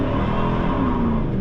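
A Chevrolet Camaro with an LT1 engine drives along, its engine and road noise forming a steady, continuous drone with no talking.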